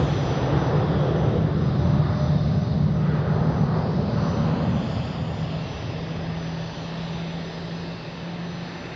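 A massive airliner at Zurich Airport roars with a steady, loud engine drone that fades slightly toward the end, with no voices over it.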